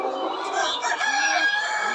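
A batch of about a thousand red laying hens in a poultry farm house, a dense continuous chorus of clucking and crowing filling the space at close range, with no talk.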